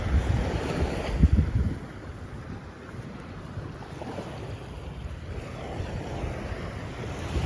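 Sea waves wash against a beach in a steady, rushing surf while gusty wind buffets the microphone, with one louder thump near the start.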